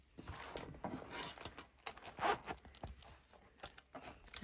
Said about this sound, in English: Kick it in, zip it shut.